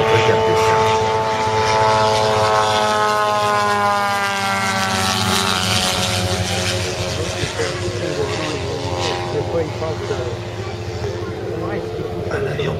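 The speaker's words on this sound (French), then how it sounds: "monomoteur de chasse à piston de la Seconde Guerre mondiale" A single-engine WWII piston fighter plane flies past at a 70th anniversary D-Day commemoration, its loud, steady propeller drone with wavering harmonics lasting throughout, easing slightly toward the end as it passes.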